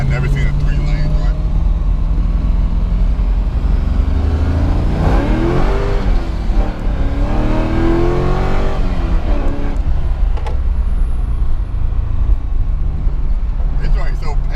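A Corvette revs and accelerates hard, its engine note rising and falling in sweeping pulls through several gears, loud and close from inside the car, with people talking over it.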